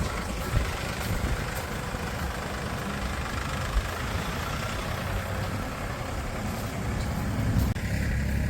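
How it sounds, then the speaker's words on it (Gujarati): A tractor engine idles and rumbles steadily outdoors on a farm while manure is unloaded, a continuous loud low drone with a little wind noise and no clear speech. "ટ્રેક્ટર ઠલવીને વહી છે અને બીજું ટ્રેક્ટર દ્વારા ઠલવવા માટે જાય છે"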